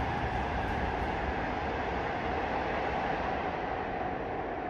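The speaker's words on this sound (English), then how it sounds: "Take a listen to an SRT train rocketing by at 240 kilometers an hour." A continuous loud rushing roar of a high-speed SRT train passing at about 240 km/h, steady broadband noise throughout, no voices.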